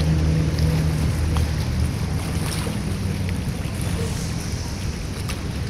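Boats on Manila Bay start up and run, a steady low engine drone mixed with wind buffeting the microphone and the wash of water, continuous and fairly close throughout.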